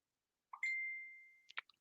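A single short phone messenger notification ding, a quiet bright tone with a soft pop at the start and a quick double blip at the end, alone in silence.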